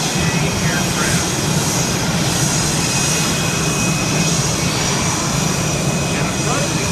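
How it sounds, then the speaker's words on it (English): Military airplanes of the Geico Skytypers formation team flying overhead at an air show, a loud continuous engine roar that holds steady throughout while a voice speaks over it. "The Geico Skypipers will demonstrate some of the capabilities of these aircraft in a series of military formations"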